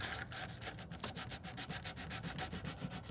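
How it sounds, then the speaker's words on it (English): Coarse 40 grit sandpaper rubs back and forth in quick, even rhythmic strokes, a steady scratchy rasp heard close and alone while cleaning up a Husqvarna 7021P lawn mower. "I got some sandpaper here. This is 40 grit."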